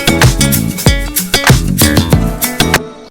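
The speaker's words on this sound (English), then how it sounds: "So for this swell effect, I have the instrument completely muted" A beat built in GarageBand on iOS plays with punchy drums and synth chords, the instrument swelling in volume across a few seconds and then cutting to silence at the end.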